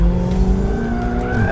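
A 2017 McLaren 720S drifts under hard throttle in second gear, its engine droning loudly while the tires squeal with sustained, rising tones, close and continuous with no talk.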